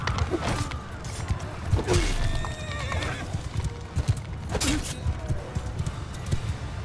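Hooves clip-clopping amid clattering battle commotion in Mount & Blade II: Bannerlord, with a horse whinnying loudly a couple of times and creaking mechanical sounds, busy and close.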